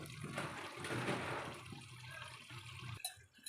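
Water is poured into a cooking pan with a mustard-paste mixture, a soft rushing, gurgling pour that fades away before a brief clatter at the end, quiet and close with no voices.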